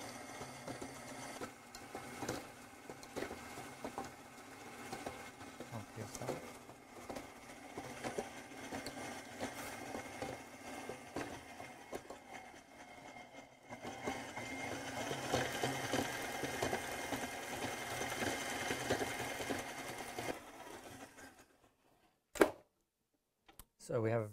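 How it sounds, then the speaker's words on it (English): An ice cream maker paddle churns lemon sorbet that is starting to freeze against the side, giving a steady grinding, rhythmic scraping and knocking that runs continuously, louder in the second half, before cutting off near the end. "it's starting to freeze on the side, so that's, you're hearing the paddle hit the side"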